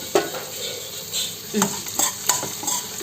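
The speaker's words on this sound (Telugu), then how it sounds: "ఇలా ఇవన్నీ బాగా ఎర్రగా వేగాలి గోల్డ్ కలర్లోకి వచ్చేవరకు వేపుకుంటే సరిపోతుంది" Ridge gourd pieces and spices fry in oil with a constant sizzle, punctuated by several sharp scrapes and clinks of a spoon stirring against the pan, close and clear, with no talking.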